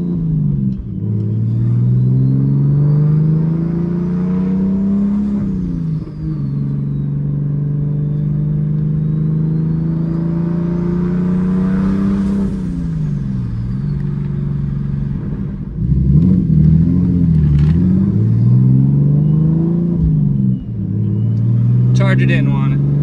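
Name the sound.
turbocharged BMW E46 car engine running and revving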